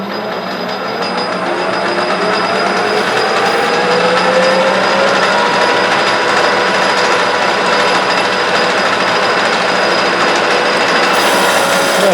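Lathe insert taking a roughly 30 to 35 thousandths cut in stainless steel, a steady continuous machining whine and grind with broadband noise, loud and unbroken throughout with no talk.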